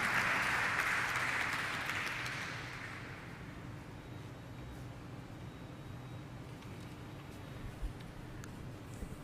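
An audience at a company stock listing ceremony gives a loud round of applause that swells at the start and fades away within a few seconds, leaving a quiet hall murmur.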